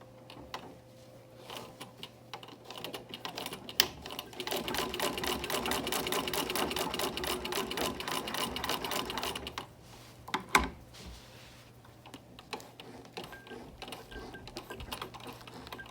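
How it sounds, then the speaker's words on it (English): Singer 15-88 sewing machine with its hand wheel rocked back and forth, giving a soft, close run of rapid mechanical ticking and clatter that swells for several seconds, then fades to sparse clicks. "I'm just rocking the hand wheel back and forth to bring out more thread."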